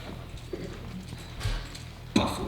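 Horse hooves clip-clop in a Western stage play scene, a few faint, uneven thuds under low room noise.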